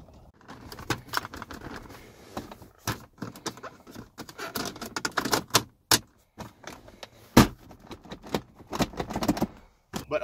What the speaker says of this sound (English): there's lots of cheap plasticky bits, and the center console rattles like.